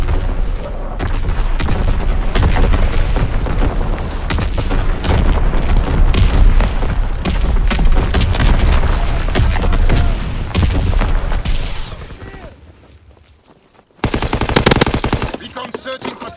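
A Call of Duty: WWII artillery battery pounds away in a long, loud barrage of booms and rattling gunfire, then drops nearly silent before a sudden burst of harsh, buzzing noise.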